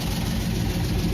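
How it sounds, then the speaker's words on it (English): A 1968 Chevelle engine idling with rattling from backed-off rocker arms: a loud, close, continuous rough mechanical clatter over a low engine rumble. "If you hear that rattle, it sounds like the rocker arm is really backed off."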